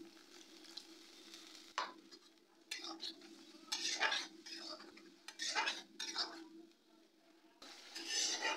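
Onions fried and stirred in a pan, with soft, intermittent bursts of spoon scraping and clinking against the pan over a low sizzle, close and fairly quiet.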